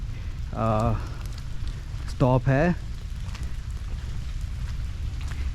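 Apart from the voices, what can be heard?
rain falling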